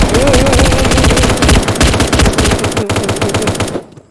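Rapid automatic gunfire blasts at a horde of zombies in a shooting video game, loud dense bursts of machine-gun rattle that run almost continuously before cutting off near the end.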